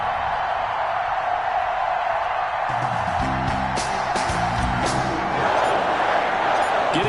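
A stadium crowd roars in the football video game Madden NFL 21 before a Packers vs Vikings matchup, a steady loud wash of cheering with bursts of whoops and shouts swelling midway.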